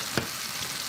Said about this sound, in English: mushrooms are cooking